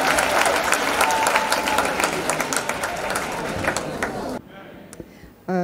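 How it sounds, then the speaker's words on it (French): A church congregation gathered for a 2019 French-language testimony service claps loudly and steadily for several seconds, then the applause cuts off abruptly, leaving a quieter room with a voice speaking briefly. "Acclamons pour Jésus-Christ."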